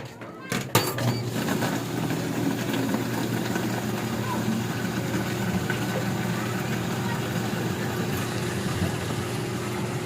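Coin-operated water vending machine running, set to dispense 20 pesos of water into a container, giving a steady low mechanical hum and drone that holds evenly throughout after a brief clunk near the start.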